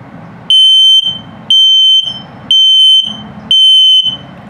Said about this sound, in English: And finally, low battery alarm.